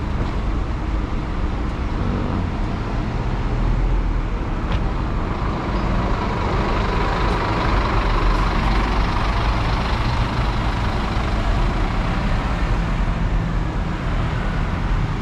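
Buses and road traffic at Hentian Kajang bus station in Malaysia in the morning, a steady low rumble of idling and passing engines with occasional louder vehicle swells, continuous and fairly close.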